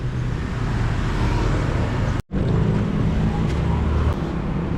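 Dense road traffic at a Chiang Mai roundabout: a steady loud wash of cars, buses and motorbikes close by, briefly cut to silence midway before the same continuous roar resumes.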